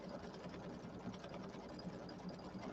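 An embroidery machine stitches steadily, a faint, continuous fast mechanical whirr with a fine even rhythm and no voices.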